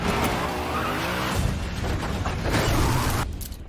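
A car drifting fast on cobblestone streets, its tires skidding and squealing over a loud, steady engine roar that holds for the whole stretch before easing off near the end.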